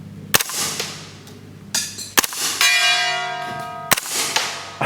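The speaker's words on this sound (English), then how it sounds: "let's just go for the gong first. See if we can pop it." Gunshots striking a steel gong target at a shooting range: four sharp cracks, each followed by a bright metallic ring that hangs and decays, one strike ringing long and tonal.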